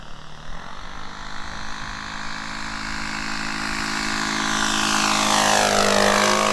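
A 1/4 scale Sopwith Pup RC model biplane with a 2 m wingspan cruises overhead, its steady engine and propeller drone sustained throughout and gradually growing louder and closer, with a slight pitch sweep as it passes.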